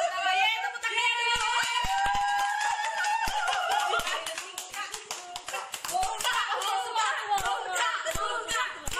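A crowd claps steadily for the main prize in a watermelon challenge, a dense patter of many hands mixed with children's voices and chatter, continuing for the full length.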